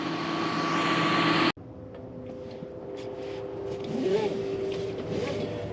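A 1998 Mercury Grand Marquis, a full-size body-on-frame sedan, cruises down a twisty road, a loud steady engine and road drone that abruptly cuts off, then a quieter in-cabin hum with faint shifting tones and light rustles.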